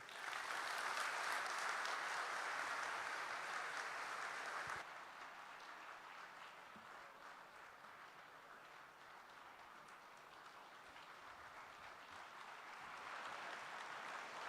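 Sustained applause from a large audience at a ceremony, loud and dense at first, then dropping to a steadier, softer level before swelling again near the end, with no talk over it.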